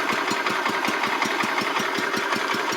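A 1985 Wheel Horse 312-8 garden tractor engine fitted with a cheap aftermarket carburetor idles close by, giving a steady, even chugging pulse of rapid regular beats with no talk.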